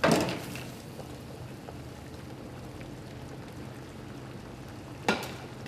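Fregola and seafood simmer together in fish stock in a Sardinian kitchen, giving a soft, steady bubbling sizzle, with a brief clatter of utensils at the start and another sharp clink near the end.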